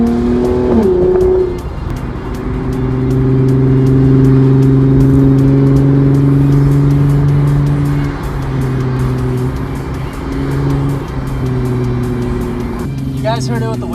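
A car engine drones steadily while driving, its low hum rising and falling with speed, with a person talking over it throughout.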